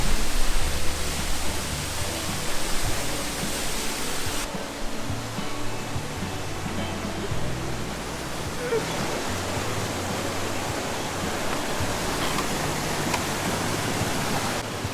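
Constant rushing roar of Git Git Waterfall in Bali, broad and steady throughout, with a low rumbling undertone and no talking.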